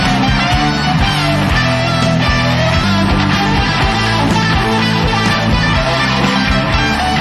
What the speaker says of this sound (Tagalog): Gusto ko yun, yung tunog ng wah effect ng gitara ni Neisha